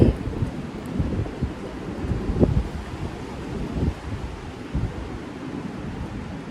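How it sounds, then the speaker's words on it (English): Breezy outdoor wind buffets the microphone in uneven gusts, a close, rumbling rush that rises and falls and is heard on its own without talk. "it's too goddamn breezy out here to light it above"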